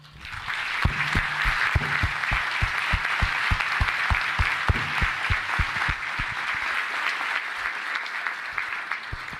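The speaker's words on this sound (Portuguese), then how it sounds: "Gostaria de pedir novamente uma salva de palmas a toda a equipe que nos antecedeu." A crowd at a university rectorship handover ceremony gives a steady round of applause, dense clapping with a few louder nearby claps, slowly fading toward the end.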